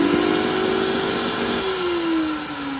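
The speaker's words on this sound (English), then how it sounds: "It's just failing the rotor armature, and yeah, it's just this like throttling sound." A failing vacuum cleaner motor with a worn rotor armature runs steadily alone, giving a droning, throttling whine whose pitch holds and then sags slightly toward the end.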